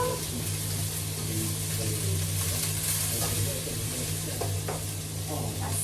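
Onions sizzle steadily in a pan while a utensil scrapes and stirs them, close and continuous, with a low hum underneath.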